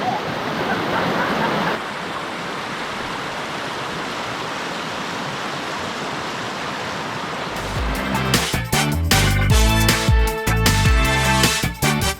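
Rushing water from the Kane and Kushivali waterfall near Malang Gad gives a steady, loud broadband roar; partway through it is overtaken by loud music that continues to the end.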